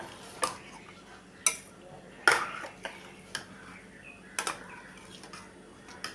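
Scattered metallic clinks and clatters as the lid of a pressure cooker filled with cooked rice porridge for Ramadan is opened and handled, a few sharp knocks spaced over several seconds in a quiet kitchen.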